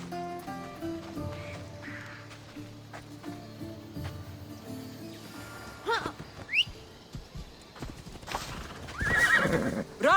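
Hooves of Phobos, a horse in Assassin's Creed Odyssey, clip-clopping in a steady rhythm under game music, with sharp whinnies breaking in toward the end.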